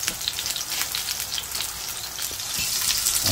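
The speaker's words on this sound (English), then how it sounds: "Sizzle, sizzle, sizzle." Steady crackling sizzle of chips frying in hot oil, close and continuous, with fine popping spatter throughout.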